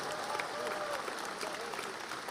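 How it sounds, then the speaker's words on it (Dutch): A large outdoor crowd at the 1 July national commemoration in Amsterdam's Oosterpark applauds, a steady, even wash of many hands clapping at a moderate distance with no gaps. "Applaus voor jezelf en voor alle mensen waarvoor je hier bent gekomen."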